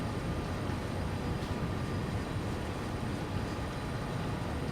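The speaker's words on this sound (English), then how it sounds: "There's not really an awful lot to say when you're driving a train" A freight train running in Train Sim World 3 on the Newhaven Aggregates to Acton Yard service: a steady, even low rumble and rolling rail noise from the cab, constant throughout without talk.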